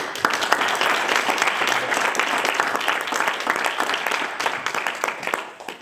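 An audience at the opening debate of a Lille university debating cup bursts into sustained applause, many hands clapping densely and loudly for several seconds before tapering off slightly at the end.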